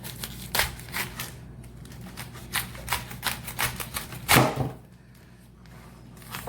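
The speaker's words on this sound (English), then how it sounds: "I usually cut the end of it off." A kitchen knife cuts the end off a washed cabbage with a run of sharp, crisp chopping taps and crunches, ending in one louder cut followed by quiet.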